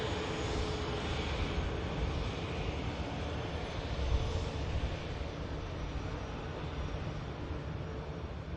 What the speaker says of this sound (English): Is that Dreamliner just turning onto finals?